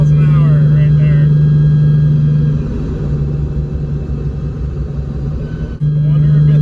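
Interior cabin sound of a Nissan 370Z with solid subframe bushings, driving at highway speed near 80 mph: a loud, steady low engine drone and road rumble that dips slightly midway, then swells again.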